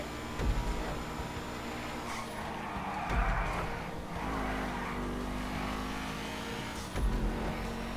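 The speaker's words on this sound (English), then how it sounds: "Oh, drifting." Car drifting in the video game Grand Theft Auto V: a revving engine with tyres squealing and skidding in sustained bursts, plus several sharp knocks, heard fairly quietly with no talk.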